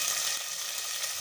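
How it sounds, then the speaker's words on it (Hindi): Two chopped onions frying in hot ghee for masoor dal, a steady close sizzle with no talk. "चलिए जनाब घी हमारा गर्म हो गया, अभी प्याज डाल देते हैं।"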